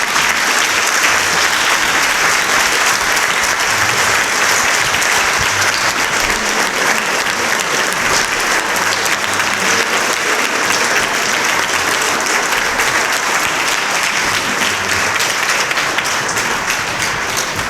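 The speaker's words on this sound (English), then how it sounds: "Let's have a round of applause for the candidates and the organization and you guys." Sustained, loud applause from the audience at the close of a Washington 4th Congressional District candidate forum, steady clapping filling the room throughout without a break.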